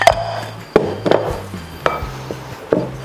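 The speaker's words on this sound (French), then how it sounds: "on va venir mélanger notre farine de riz gluante avec notre sucre glace" Glutinous rice flour and icing sugar are stirred together for mochi, heard as close, soft rubbing and scraping in a bowl punctuated by a few sharp knocks of the utensil against the side.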